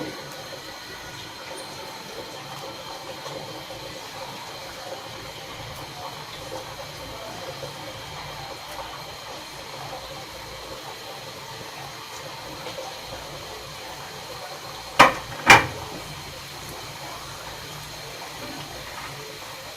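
Egg and coconut pitha fry in hot oil with a steady, faint sizzling hiss that runs throughout, broken near the end by two quick sharp clicks.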